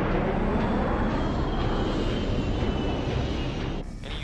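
Fighter jet roaring in flight, a loud, steady broadband engine rush that holds throughout and drops off sharply near the end.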